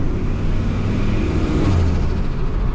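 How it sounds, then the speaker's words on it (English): A stock Ford Triton 5.4L pickup with a single turbo running about 12 psi makes a rapid fluttering chuff over its engine rumble, a close, loud burst of rough pulsing that swells midway through. "So now it's got that flutter noise"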